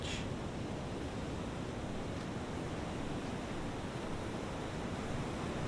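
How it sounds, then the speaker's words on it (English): Gentle waves break on a calm, quiet beach, a steady wash of surf without pause, alone and fairly close. "Like gentle waves breaking on the shore of a calm, quiet beach."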